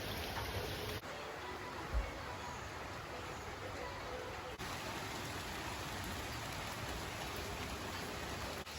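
Heavy rain pouring steadily during a days-long storm, a dense unbroken hiss with one brief thump partway through.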